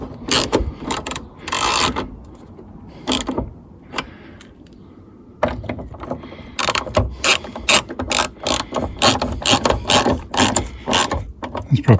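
A ratchet tightens the bolts of a replacement rear door on a Renault Clio Mk3, with close, loud bursts of rapid clicking repeated many times and a short quieter pause partway through.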